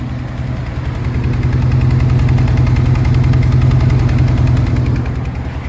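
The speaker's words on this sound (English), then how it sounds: "I'll let her idle nicely now," A 1979 Alfa Romeo Alfetta 2.0 idles close up, a loud, steady, even engine throb with a rapid regular pulse and a faint mechanical rattle, no talk over it.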